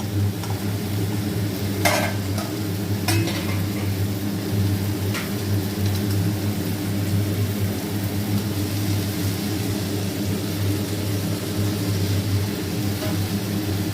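Okra (ladies' finger) fries in a pan with a steady, moderate sizzle over a low background hum, broken by a few sharp clinks of a spoon stirring.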